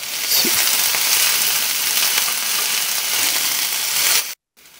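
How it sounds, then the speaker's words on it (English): Onions saute in a pan for a frittata, a close, steady, bright sizzle with small crackles, which cuts off abruptly near the end and leaves a brief silence. "we've done our 5 minutes of sauteing our onions"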